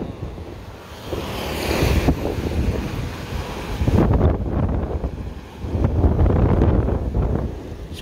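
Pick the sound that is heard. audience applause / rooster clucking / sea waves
sea waves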